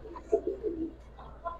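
Homer pigeons coo at close range, soft low throaty calls repeating in short rhythmic bursts over a faint steady hum.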